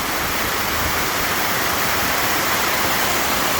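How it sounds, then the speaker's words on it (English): A mountain waterfall near British Columbia, a loud, steady roar of rushing water filling the whole moment without any voices. "mountain waterfalls for you."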